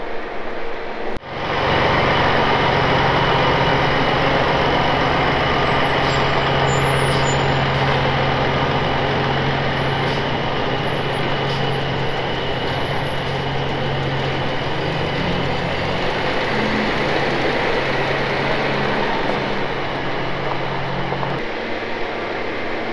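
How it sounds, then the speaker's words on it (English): Hay trucks idle and pull out of a field with a steady, loud diesel engine rumble throughout, a low drone holding until near the end, with a brief hiss like an air brake. "Okay, so trucks are pulling out of a new field now."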